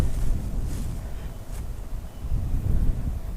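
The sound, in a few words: wind in open field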